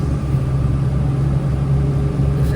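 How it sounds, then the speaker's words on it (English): Dump trucks hauling fire debris in post-fire Malibu, a steady low engine rumble running continuously at close range with no talk. "These dump trucks they're running long hours"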